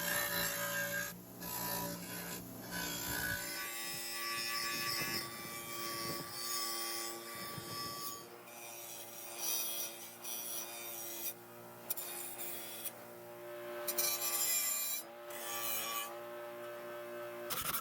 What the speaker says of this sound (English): Now it's time to hit the speaker chassis with the wire wheel one more time.